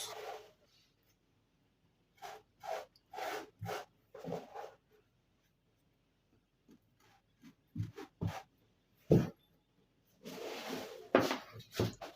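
Organza fabric being cut: short bursts of crisp rustling and snipping, close by, grouped into irregular clusters with quiet gaps between them and no talking.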